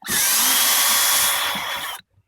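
A power drill running in slow mode backs out Phillips head screws holding a speaker in a 2012 Subaru Impreza/Crosstrek, giving a close, steady whine for about two seconds before cutting off.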